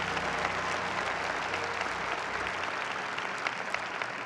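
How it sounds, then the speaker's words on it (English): A church congregation claps during a Sunday service, producing sustained dense applause from many hands with no break, loud and close throughout. "Let's give the Lord a big hand clap."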